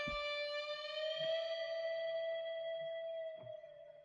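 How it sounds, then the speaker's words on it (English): A sustained synthesized guitar note slides gently up in pitch and back down, with soft thumps underneath. "so I'm gonna show you guys how I bent the guitar."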